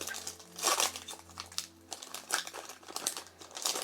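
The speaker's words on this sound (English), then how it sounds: "I've never had such a hard time getting into Pokemon packs before." Foil Pokemon card booster pack wrapper being worked open, giving repeated loud crinkling and crumpling bursts close to the microphone, with short pauses between handling and faint low hum underneath.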